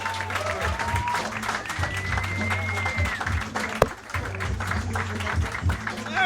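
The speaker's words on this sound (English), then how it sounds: "Clap it up as loud as you can for Sean Lynch." A comedy club crowd at a roast battle claps and cheers for a comedian, the applause mixed with shouts and a low rumble of voices, swelling and dipping.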